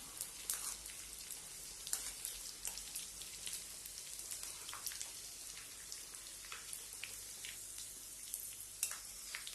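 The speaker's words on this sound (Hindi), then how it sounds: "अब हम इसमें थोड़ा थोड़ा गोंद डालेंगे। बहुत सारा गोंद एक बार में नहीं डालना है, थोड़ा थोड़ा करके ही हम इसको तलेंगे।" Edible gum (gond) fries in hot ghee while panjiri is being made, giving a steady, close crackling sizzle scattered with sharp little pops throughout, with no voices.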